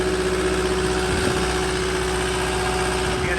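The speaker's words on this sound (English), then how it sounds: "Nice and clean motored engine." A 2019 CAT 259D enclosed-ROPS skid steer engine idles steadily, a loud, close, continuous diesel drone with no other sounds.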